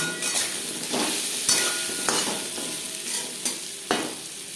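Rohu fish pieces frying in a pan with turmeric and salt, a steady close sizzle broken by several stirring scrapes, with no talking.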